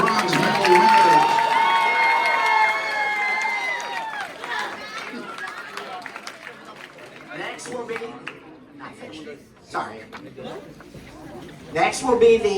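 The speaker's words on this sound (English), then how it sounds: "a final round of applause for Team 6 individual bronze medal winners" Applause and cheering from a crowd at a math league summer tournament awards ceremony, loud at first with shouts and whistles, then thinning into scattered claps and chatter.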